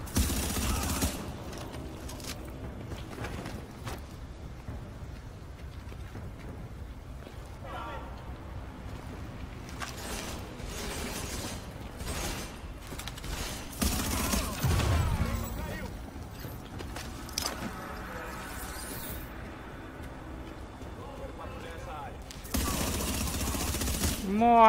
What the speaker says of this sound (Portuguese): Parece uma cega atirando.